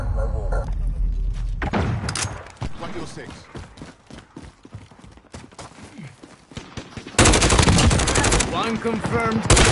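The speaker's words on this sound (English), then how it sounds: "taking fire!" Machine gun fire in a shooter video game: ragged bursts of rapid shots and thuds rattle over a noisy battle bed, turning into a dense, loud, continuous roar of gunfire near the end.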